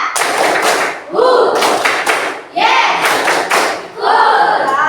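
A classroom group claps along in a counted one-two-three pattern, bursts of clapping alternating with a teacher's voice, the rhythmic groups loud and close with short pauses between.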